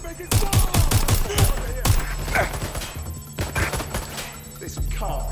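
Rapid bursts of automatic gunfire in the video game Watch Dogs Legion, loud close shots in quick volleys, followed by scattered impacts and electronic effects.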